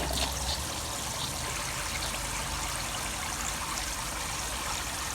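A bilge pump bubbles and churns water in a large fish tank used as a live well, giving a steady, continuous trickling and gurgling wash that stays close and even throughout.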